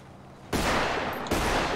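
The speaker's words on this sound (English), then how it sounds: "Shoot them lights out. Let me see you shoot them lights out up there." Rapid gunfire in GTA 5 roleplay erupts after a quiet half second, a dense loud burst of automatic shots that breaks briefly and resumes just as intensely.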